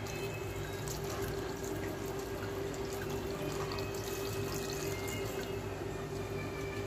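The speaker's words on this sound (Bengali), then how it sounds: "জল লাগবে, এখন একটু জল লাগবে," Water runs steadily from a tap or is poured into a cooking pan while preparing a bitter vegetable curry in a home kitchen, a continuous close splashing hiss lasting throughout with no talk.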